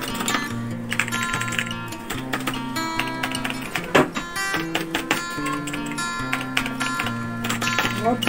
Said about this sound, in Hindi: आइए हम इस कीबोर्ड के जो स्विच है, उस स्विच को साउंड को हम आपको सुनाते हैं।